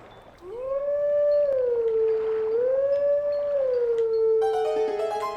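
In the video game Twilight Princess HD, a wolf howls a song as a long, loud, wavering tone that rises and falls in pitch, and a bright musical chime enters near the end.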